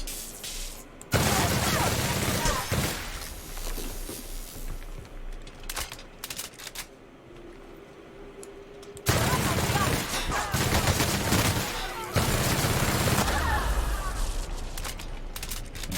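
Sustained bursts of gunfire and booming blasts from the game The Outer Worlds come in dense, loud waves that drop briefly mid-way before another heavy explosion-like surge, with speech partly mixed in.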